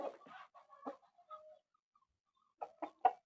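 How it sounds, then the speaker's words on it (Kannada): Hens clucking at a rural home, a few short soft clucks and a drawn-out low call in quiet surroundings, with a burst of quicker clucks near the end, all fairly faint and unaccompanied by talk. "ಕೋಳಿನೂ ಬರ್ತಾ ಇದ್ದಾವೆ ನೋಡಿ ಹೇಗೆ"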